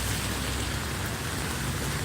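Steady rain hisses evenly throughout, a dense wash of noise with no breaks or distinct drops standing out.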